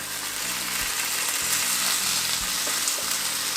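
Salmon fillet pan-frying right after being flipped, a steady dense sizzle running throughout with faint low thumps from the pan, close and even, with no talking.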